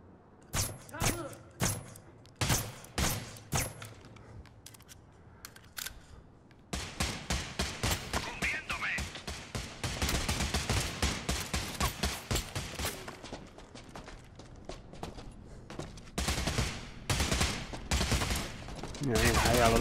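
Shotgun fire in the VR shooter Bravo Team, scattered sharp blasts at first, then a dense run of rapid shots and impacts that grows louder toward the end, with someone talking over parts of it.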